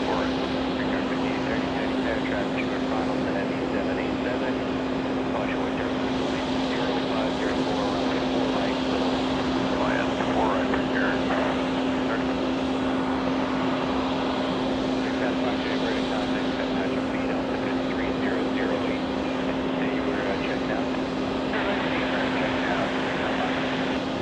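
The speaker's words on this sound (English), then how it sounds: "This is a Dreamliner. Aero Mexico 408 flying in from Mexico." An Aeromexico Boeing 787-9 Dreamliner arriving at JFK from Mexico produces a long, steady, distant jet rumble with a constant droning tone that neither swells nor fades.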